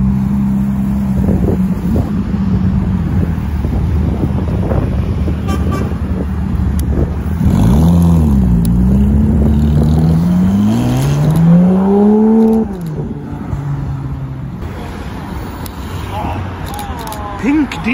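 Porsche 911 GT3 RS supercar driving past on a street lined with other supercars, a loud engine sweeping up and down in pitch as it passes near, with people talking over the roar.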